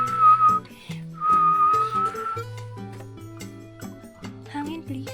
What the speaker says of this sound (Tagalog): tapos walang hangin, try natin sumipol